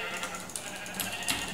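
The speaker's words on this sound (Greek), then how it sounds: "Χτυπάμε πρόβατα." Sheep bleating in the video game Minecraft, a couple of short close bleats from a farm animal in the game, loud and clear with little else around them.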